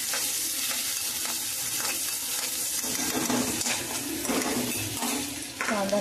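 Onion frying in a pan for pav bhaji, a close steady sizzle with frequent clinks and scrapes of a spoon stirring against the metal, no talking.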